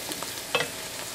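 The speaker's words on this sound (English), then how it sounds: "Sauteing some onions till they get very soft and wilted" Onions sauteing in butter in a pan till soft, a faint, soft sizzle with a couple of light stirring clicks over a brief moment, no speech.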